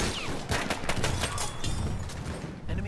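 Battlefield 1 gunfire with shotgun blasts, a dense rapid barrage of loud, close cracks and bangs layered over distant battle noise.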